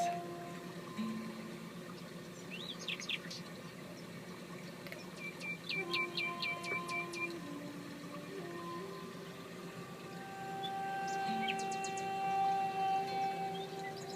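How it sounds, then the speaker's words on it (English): Birds chirp and trill in short bursts against a steady outdoor background with flowing water, and a faint low animal call drifts in from afar. "you can hear the birds and maybe the occasional cow and chicken and pig"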